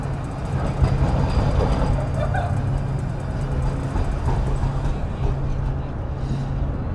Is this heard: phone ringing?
no